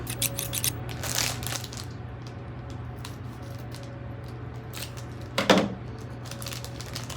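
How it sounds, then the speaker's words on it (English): Scissors snip and crunch through a package's plastic, with a couple of short, crisp cutting bursts, the second one louder, over a steady low hum in an indoor room. "So first let's open this by the scissors."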